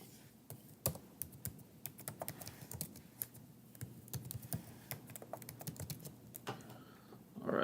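Keys on a computer keyboard are tapped in a quick, uneven run as a password is entered. The clicks are close and crisp and play out alone in a quiet room.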